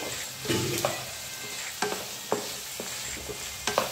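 Cauliflower florets and mixed vegetables frying in a pan, with a steady sizzle under repeated scraping and stirring strokes of a spatula, close and moderately loud, no voices.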